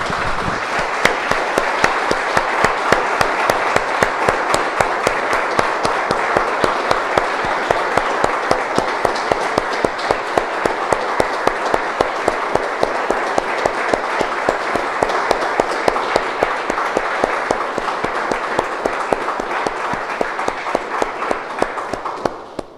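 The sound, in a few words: congregation applause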